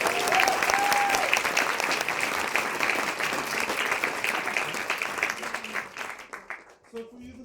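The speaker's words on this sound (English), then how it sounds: "How about one more big round of applause for my family?" Audience at a Maori cultural village evening show in Rotorua applauding the performing family, dense sustained clapping with a brief whistle at the start, gradually thinning and fading out near the end.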